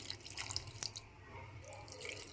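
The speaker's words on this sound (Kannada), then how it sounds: "ನೋಡಿ ಇವಾಗ ನೀರು ಹಾಕ್ಕೊತಾ ಇದ್ದೀನಿ" Water poured from a small vessel into coarsely ground chana dal chutney paste, heard as faint scattered drips and trickles over a low steady background with no talking.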